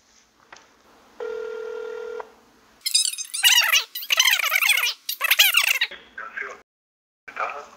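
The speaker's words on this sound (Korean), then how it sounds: "제가 한번 전화 한번 해볼게요." A telephone call rings out with one steady ringing tone lasting about a second. Brief squeaky, chirping electronic sounds follow on the line.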